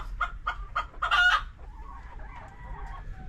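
Hens in battery cages on a Filipino poultry farm cluck in a quick, repeated run, followed by a loud crowing-like squawk and softer, trailing calls, all fairly close.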